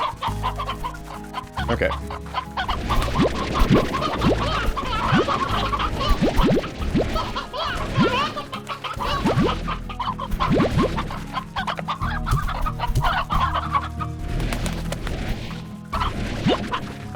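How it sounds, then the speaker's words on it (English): Chickens clucking in the video game Slime Rancher, quick overlapping clucks and squawks mixed with thuds and crashes over a busy game soundtrack, with a brief spoken word near the start. "we're going to suck up all the chickens we can"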